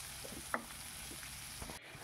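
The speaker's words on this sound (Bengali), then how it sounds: "হালকা করে নাড়িয়ে চাড়িয়ে নিচ্ছি।" Chopped onions sizzle softly in a pan with jackfruit and mutton mince cooking nearby, a low steady fry broken by a few light scrapes and taps of a spoon as they are stirred.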